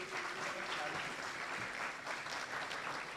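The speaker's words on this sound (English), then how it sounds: "A round of applause." An audience at a youth policy dialogue applauding, a dense steady round of clapping from many hands that holds at an even level throughout.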